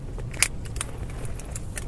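A flip key for a 2007 Audi A4 B7 3.2 handled up close, a bright jingle and click of keys early on followed by lighter metallic ticks, no talking.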